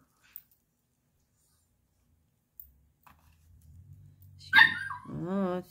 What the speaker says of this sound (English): There's a puppy on the other side of the door.